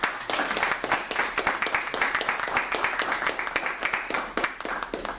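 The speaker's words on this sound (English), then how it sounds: "Round of applause for him." A crowd applauding at a board meeting, dense rapid clapping from many hands that keeps up steadily throughout.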